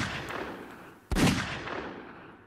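A single sharp gunshot cracks out near the gate of a lawn, a loud sudden blast that decays over about a second against a steady hiss.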